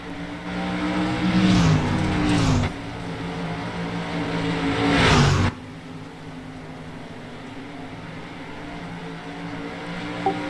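Race cars on an oval track roar past in loud surges, with two bursts of engine noise fading away and then a steadier, quieter drone of cars farther off.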